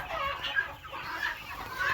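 Farmyard chickens and roosters cluck and squawk in short, overlapping bursts at moderate distance, fairly quiet and continuous over a light background.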